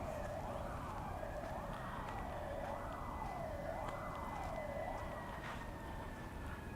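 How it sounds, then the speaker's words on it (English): Fire department sirens wailing on a Seoul street near a fire station, a steady rising-and-falling siren sweep repeating several times over constant traffic rumble, moderately distant and continuous. "You can hear all the sirens. The fire department's just down the road from here."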